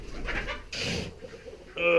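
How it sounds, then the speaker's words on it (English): Pigeons cooing at a barn, soft low throaty coos near and intermittent, mixed with other bird calls and a brief burst of rustling, with a voice speaking alongside. "Birds and bird food."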